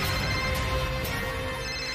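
A mobile phone ringtone plays steadily at a moderate level against faint background noise, with no voices over it.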